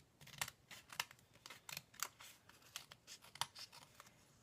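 Sharp scissors snipping paper for a journal page, a quick irregular series of close, quiet cuts with small rustles between them.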